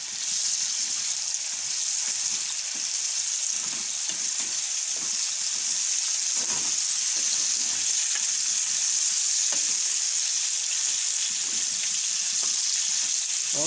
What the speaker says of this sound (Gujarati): બે ત્રણ મિનિટ આપણે આને ચડવા દેવું તેલમાં